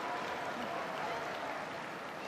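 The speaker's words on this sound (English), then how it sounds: "And getting some applause." Spectators applaud at a women's junior curling match between Russia and Hungary, a steady, moderately distant patter of clapping filling the arena for a couple of seconds.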